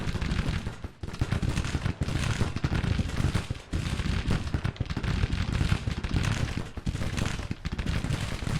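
Civil War army volleys and cannon fire in the Grand Tactician strategy game, a dense continuous crackle of musketry with heavy booming shots at irregular intervals, loud and unbroken.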